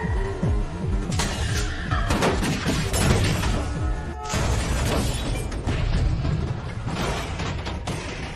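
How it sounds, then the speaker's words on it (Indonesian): A loud, continuous burst of crashing, shattering debris and roaring blasts from an exploding car in an action film, sustained throughout with no speech. "terjadi ledakan pada mobil yang membawanya"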